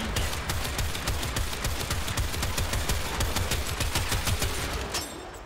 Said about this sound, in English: Mind you, this is a shotgun.